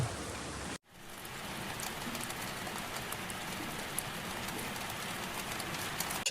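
Steady rain patters down continuously, dense and even, after a brief silent gap near the start.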